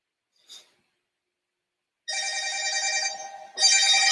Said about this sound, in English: I am getting a spam phone call right now